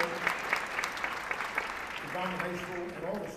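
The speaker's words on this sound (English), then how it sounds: "Let's give them a nice round of applause" Audience applause at a high school senior merit assembly, a steady wash of many hands clapping that fills the room, with a voice speaking over the clapping in its second half.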